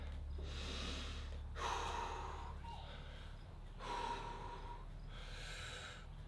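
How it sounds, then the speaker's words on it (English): Heavy breathing after a boxing bag work training session, four or five long, loud, close breaths, each a rushing inhale or exhale with short pauses between. "Just a second for breathing."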